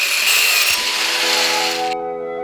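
Power tool cutting through a steel wrench, a loud continuous high-pitched grinding screech that stops abruptly, leaving a ringing metallic tone to fade out.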